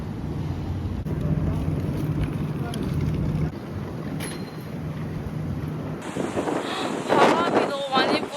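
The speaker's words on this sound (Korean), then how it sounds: "바람이 너무 많이 불어." Strong wind buffeting a microphone outdoors on a travel day in Nagoya, a loud continuous rumbling roar with gusts. A voice speaks briefly near the end.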